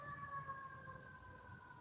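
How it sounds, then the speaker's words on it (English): An ambulance siren wails faintly from outside, a steady high tone with slowly drifting pitch, distant and muffled under low background hum. "there's a ambulance, sounds like."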